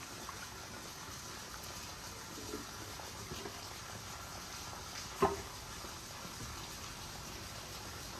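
Water draining steadily out of a fish pond during cleaning, with a low even rush of flowing water and one brief faint knock partway through.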